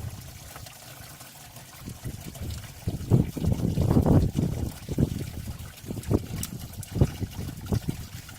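Old, gunky engine coolant trickling and dribbling out of a Mercedes Sprinter van being flushed, an uneven liquid splatter that swells in the middle and comes in irregular spurts.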